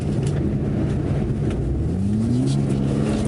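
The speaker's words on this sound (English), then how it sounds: "That's full throttle now. So I'm holding the drift at full throttle." A BMW G80 M3 Competition xDrive in rear-wheel-drive mode roars steadily at full throttle while drifting, its engine note droning loud and close with harmonics rising slightly toward the end, and no talking.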